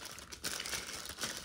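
A full sheet of stickers is handled for Halloween treat bags, giving close, soft crinkling and plastic rustle in a brief continuous burst, with no talk.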